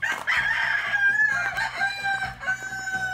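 Roosters crowing in the morning, several birds overlapping in long loud crows close by, with clucking fowl underneath.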